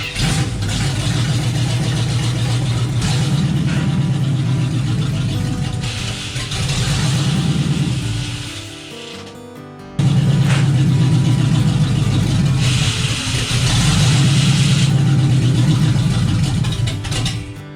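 Tow truck engine with a failing transmission starts and runs steadily, a loud mid-pitched drone that dips briefly and cuts out before firing back up and running again, with no talk over it.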